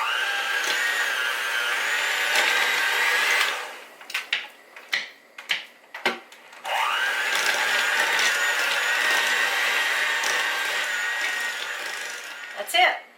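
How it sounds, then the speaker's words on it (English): An electric hand mixer whirs through ricotta, cream cheese and eggs for a baked ziti filling, running in a long steady stretch, then several short bursts, then another sustained run. "I'm going to use the hand mixer to mix the ricotta, the cream cheese,"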